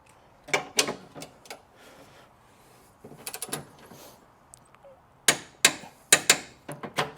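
A wrench torquing bolts on a Porsche 911 bumper, giving sharp metallic clicks and ratchet bursts in short irregular clusters separated by quiet pauses.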